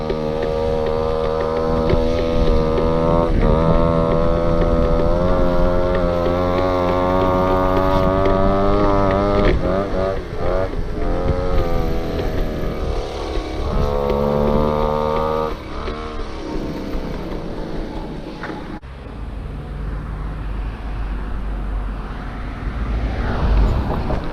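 An old Go-Ped scooter engine that had sat unused for over fifteen years, revved hard at high throttle while climbing a hill: a loud, steady buzzing drone with wavering pitch and brief dips, then a rougher, lower stretch near the end.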